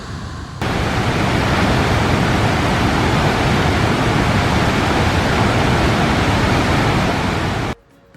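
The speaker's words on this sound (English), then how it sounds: "Just come for a wander down to have a look at the waterfalls." Aysgarth Falls in the Yorkshire Dales, a loud, steady broadband roar of rushing water heard up close, beginning abruptly and cutting off sharply near the end, with no voices.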